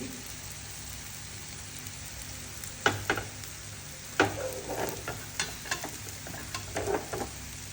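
Thin besan flatbread fries in oil on a griddle, a soft continuous sizzle with scattered crackles and spatula scrapes, fairly quiet and close.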